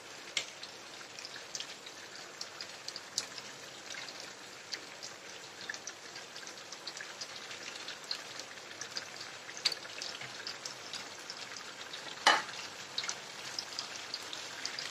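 Rohu fish curry simmers in a pan as it is gently stirred, giving a faint, steady bubbling with scattered soft pops and ticks and one sharper clink.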